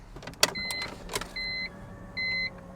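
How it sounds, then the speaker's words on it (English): A BMW E46 M3 with an SMG gearbox is keyed back on: a couple of sharp clicks and short electric motor whirs, then two sustained chime tones, close and quiet inside the car. "We're gonna key the car back on"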